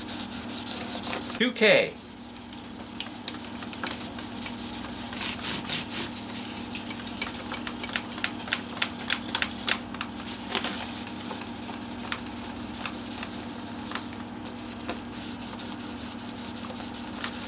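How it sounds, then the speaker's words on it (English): Guitar frets on a guitar with string rattle and low action are polished with steady, repeated back-and-forth rubbing strokes, close up, with a brief sharp scrape near the start and a few short spoken words. "The main thing when you're doing this fret polishing"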